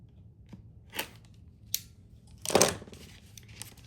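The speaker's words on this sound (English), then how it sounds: "I'm just going to cut this right down the middle." Scissors snip through a fabric zipper laid out for a bag pocket, a few short crisp cuts with a louder crunching snip near the end, close and alone.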